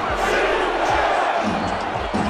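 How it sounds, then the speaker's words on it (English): A stadium crowd at a football game, people on their feet chanting defense, fills the space as a loud, dense, steady roar with rhythmic thumps underneath. "Crowd on their feet, chanting defense."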